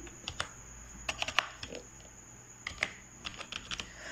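Keys clatter on a computer keyboard while text is entered in MS Word, with faint, uneven bursts of quick taps and short pauses over a low steady hum, and nobody speaking.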